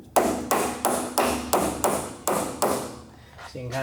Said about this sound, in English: you can kind of hammer it in place